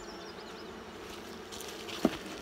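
Honeybees buzz around an opened nucleus hive, a close, steady drone with a few individual bees passing near and a brief louder bump toward the end.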